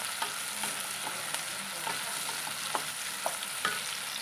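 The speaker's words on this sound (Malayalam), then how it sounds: "നന്നായിട്ടൊന്ന് വഴറ്റിയെടുക്കാം" Onion, green chillies and tomato sautéing in a pan for onion sambar, a low steady sizzle with light scraping clicks of stirring, close and fairly quiet.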